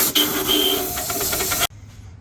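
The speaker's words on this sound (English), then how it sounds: "Full pressure clean everywhere, down through the oil galleries, and blow dry." Compressed air blasts at full pressure through the oil galleries of a cursed big-block engine block, drying it out: a loud, steady rushing hiss that holds for about a second and a half, then cuts off abruptly to near silence.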